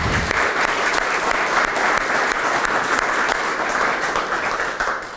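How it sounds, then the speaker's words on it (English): Audience applause at a Niagara Parks Foundation launch event, a dense, steady round of clapping from a crowd that holds evenly for about five seconds and tails off slightly at the end. "Please join me in a round of applause for Debbie and April."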